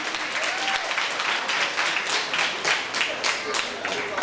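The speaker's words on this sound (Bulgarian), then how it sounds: "Заслужени аплодисменти." Wedding guests applaud in a steady burst of many hands clapping, moderately loud, with some talk mixed in.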